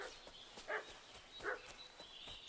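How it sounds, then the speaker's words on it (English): Dog in Kingdom Come Deliverance 2 giving two short, faint barks about a second apart, distant and quiet over a soft background hum. "What's that dog making such a fuss about?"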